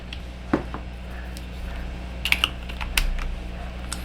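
Typing on a Royal Kludge S98 mechanical keyboard, irregular clacky keystrokes with a few louder hits and brief clusters, close up, with no talking.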